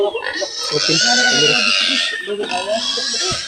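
Pig grunting on a farm, mixed with other livestock noises and a busy, continuous background, with people talking over it throughout.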